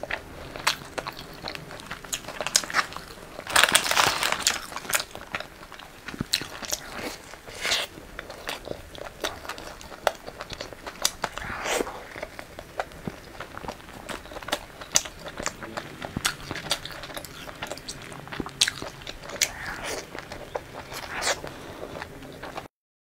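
Crunchy chocolate cookies being bitten and chewed up close in an ASMR mukbang, with repeated crisp crackling bites and crunches in uneven bursts over about twenty seconds.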